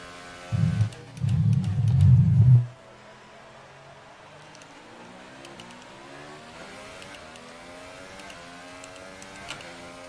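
A Formula 1 race car engine in the F1 2018 video game revs hard on an out lap of the Canada qualifying session, two loud rising bursts close by, then the engine drops away to a low, quiet hum.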